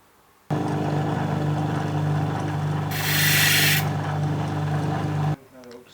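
Gemstone bottom side being cut on a sand lap with the stone held on a wax stick: a steady, loud grinding hum with a constant motor drone, brightening into a harsher hiss midway, then stopping abruptly.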